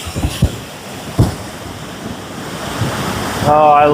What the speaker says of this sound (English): Superior has got some big waves going on down here.